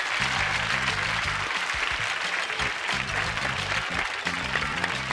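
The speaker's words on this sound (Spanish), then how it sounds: "¡Aplauso, aplauso!" A studio audience at a Spanish television game show claps steadily and evenly for several seconds while music plays underneath.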